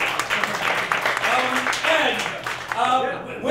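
Audience applause at a live storytelling improv comedy show for a performer, a steady wash of many hands clapping throughout with a voice talking over it toward the end.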